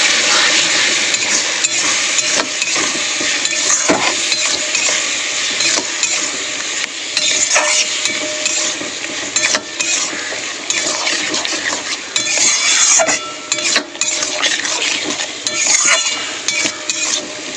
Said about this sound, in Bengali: দিয়ে একটু জল দিয়ে মশলাটাকে কষাবো আমি।